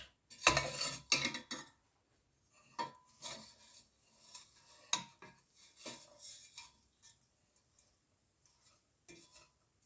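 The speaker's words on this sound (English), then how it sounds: "finely chopped jaggery. And give it a stir." A metal spoon scrapes and clanks against a pan while chopped jaggery is stirred into Indian gooseberry pickle, producing irregular close knocks and scrapes with short pauses between strokes and a faint sizzle underneath.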